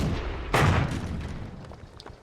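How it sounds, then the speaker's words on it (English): A single heavy artillery shell boom from a World of Tanks battle, sharp onset then a rumbling decay, fairly loud and alone with no talk over it. "there's artillery deciding he'd have a go"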